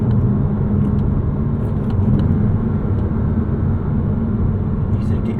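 A 2006 Porsche Cayman S engine drones steadily from inside the cabin as it downshifts, a loud, continuous low rumble of engine and road noise lasting the whole stretch.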